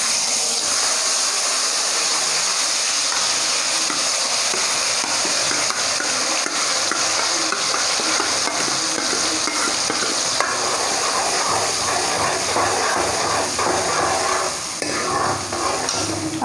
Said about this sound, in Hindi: ये जो मैंने प्याज और ये सब अनारदाने के पेस्ट तैयार करे थे, अब मैं ये इसमें डाल दूँगी।